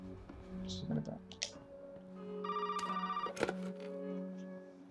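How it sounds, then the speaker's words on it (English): A telephone rings briefly in Resident Evil 7, a short electronic trill in the middle of quiet game ambience with faint clicks and thuds around it, while someone talks faintly. "There's a phone ringing."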